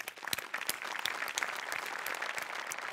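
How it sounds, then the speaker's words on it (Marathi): A studio audience at a Marathi comedy show claps in a dense, continuous burst of applause, steady and fairly close, with a few sharper individual claps standing out. "नेहमीप्रमाणे सगळ्यात आधी मोठ्यांसाठी टाळ्या वाजवूया"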